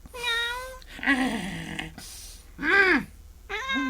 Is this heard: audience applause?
no